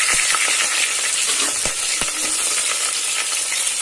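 Chopped onions with whole spices such as cinnamon fry in hot oil for a tempering, giving a steady, loud, close sizzle with a few faint stirring clicks and no voices.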